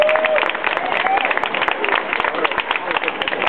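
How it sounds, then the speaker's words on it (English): A crowd applauding a woman named Val at a plaque unveiling on Carnaby Street, dense clapping with voices mixed in, steady and fairly loud throughout. "Big round of applause for Val."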